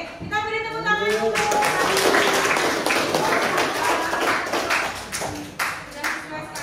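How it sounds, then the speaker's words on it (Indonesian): A group of people claps hands at a guidance and counselling training session, a loud, dense burst of applause running several seconds, with voices mixed in and a speaking voice at the start. "kita beri tepuk tangan dulu"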